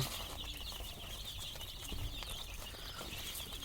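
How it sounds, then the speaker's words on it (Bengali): Faint clucks and peeps come from seven-day-old tiger breed chicks on a hobby farm as they eat their morning feed, with scattered light pecks and fluttering under a steady background hiss. "এগুলো আমার সাত দিন বয়সী টাইগার মুরগির বাচ্চা"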